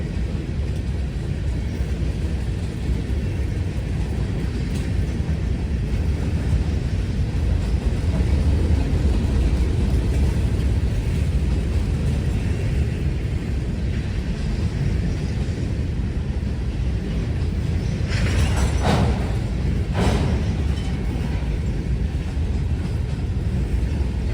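A train rolls past a railfan at Elkhart, a steady loud broadband rumble of wheels and cars filling the whole stretch, with brief brighter squeal-like bursts near the end.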